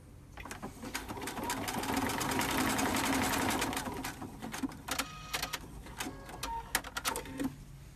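A sewing machine running a flat lock stitch, a dense rapid mechanical chatter that swells for a few seconds, then breaks into short separate bursts and clicks, close and fairly quiet.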